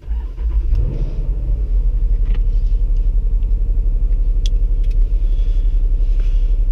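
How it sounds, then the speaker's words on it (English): A car engine starts after a push-button start, a quick crank and catch followed by a steady, close low idle rumble that continues for several seconds. "So I like the motor to start up on that first start."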